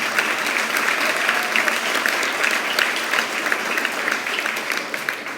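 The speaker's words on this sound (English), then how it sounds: "round of applause for him, please" Graduation ceremony audience applauding a student's singing, sustained crowd clapping with sharp individual claps standing out, steady and loud, tapering slightly at the end.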